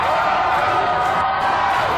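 A wrestling crowd at a title-fight card cheers in a dense, steady roar that fills the venue, loud and continuous with no break.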